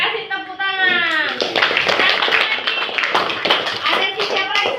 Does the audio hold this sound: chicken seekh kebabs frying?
no